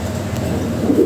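A large Lahori Siraji pigeon in a display cage gives a low, soft, continuous coo. It is close and fairly loud, swelling slightly near the end, with no talk over it.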